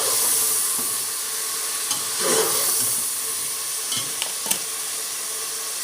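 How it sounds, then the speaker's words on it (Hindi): Meat frying in a pot with golden onions for shalgam gosht, a continuous hissing sizzle broken by a few stirring scrapes and clinks, close and without talk. "अब इसमें मैंने ये गोश्त डाल दिया। अब इसको अच्छी तरह भूनेंगे ज़रा"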